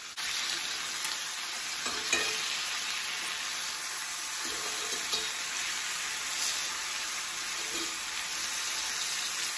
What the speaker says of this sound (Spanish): Lo voy a dejar que se cocine, que se dore de un lado para luego voltearlo